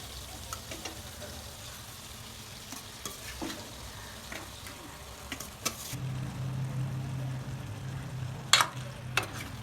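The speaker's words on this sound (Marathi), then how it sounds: "आता चांगला असं हलवून घ्यायचं" Dal pitthi dumplings are stirred through a cooked tomato masala with dal, soft scraping and stirring strokes over a low simmering bubble, growing a little busier toward the end with a couple of sharper utensil knocks.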